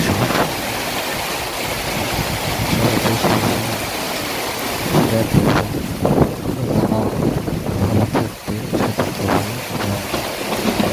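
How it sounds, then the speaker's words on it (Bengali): Strong wind gusts from a rainstorm batter the microphone in loud, uneven surges over a constant background roar, with no one speaking. "অনেক বাতাস"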